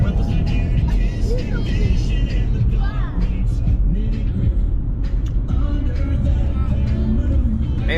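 A loud car drives down a country road through a hollow toward a livestock sale, heard from inside as a steady, heavy engine and road rumble that runs the whole time, with people talking over it.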